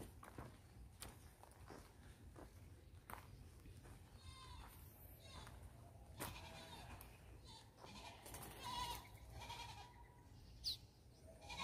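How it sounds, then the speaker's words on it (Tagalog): Goats bleating beyond a fence at a villa, with several faint, scattered calls over a quiet rural background and occasional soft footsteps or knocks. "tunog ng mga kambing"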